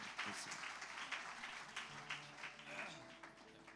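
A church congregation at a special service claps to welcome an evangelist to the front, a continuous round of applause with faint voices and tones underneath.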